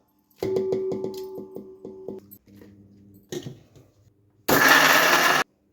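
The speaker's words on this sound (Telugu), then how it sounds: "మిక్సీ పట్టుకోవాలి" A mixer grinder coarsely grinding ripe red chillies whirs in a quick series of short pulses, pauses with a few clunks, then roars loudly in one steady burst before stopping.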